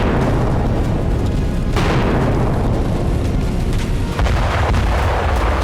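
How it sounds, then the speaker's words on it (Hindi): Bombardment in Khan Younis, Gaza: a continuous, loud roar of heavy explosions and booming blasts fills the whole stretch, with a sharp burst near the middle and no voices. "खान यूनिस में हर दिन बम बरस रहे"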